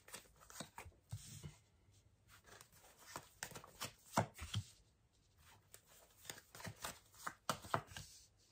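Tarot cards being shuffled and drawn, soft papery riffles, slides and taps in irregular bursts, quiet and close with no speech.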